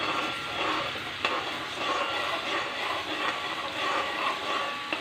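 Garlic-ginger paste frying in hot oil for a Tripunithura-style chicken curry makes a steady, fairly quiet hiss and sizzle with a faint crackle or two, and no voices.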